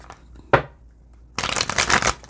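Tarot cards are shuffled twice, first a single sharp riffle, then after a pause a longer, louder burst of cards flapping and clattering close to the microphone.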